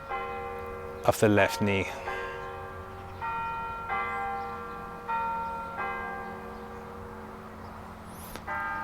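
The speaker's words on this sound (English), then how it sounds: "The bells are ringing." Church bells ring in repeated sustained tolls, clear and moderately distant, while a woman gives yoga instructions over them.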